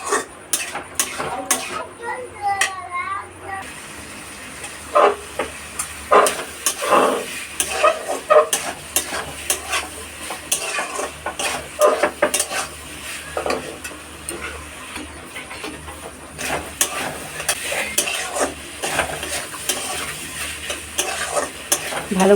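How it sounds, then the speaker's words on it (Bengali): Chicken and potatoes being stirred and sautéed in a covered kadai, with a steady sizzle under repeated close scraping and clinking strokes of a spoon against the pan throughout. "ঢাকা চাপা দিয়ে কষাচ্ছি যাতে করে আলুগুলো একটু সেদ্ধ হয়ে যায়"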